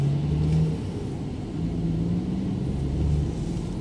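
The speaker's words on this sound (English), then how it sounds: "massive truck to pass." A massive truck passing on a road, a steady low rumble of engine and tyres that stays fairly loud throughout with slight swells, close by, with no talking over it.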